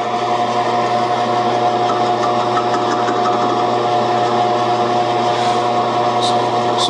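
A metal lathe runs steadily as it cuts a cone shape into round aluminum stock, a constant loud hum with tonal whine and fine scraping texture throughout, with a few brief high clicks near the end.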